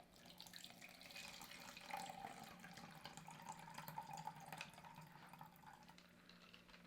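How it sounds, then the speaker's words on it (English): Ice water pours into a container in a steady, faint trickle for several seconds, a gentle splashing stream that ends with a short knock. "I'm going to pour in 200 milliliters of ice water"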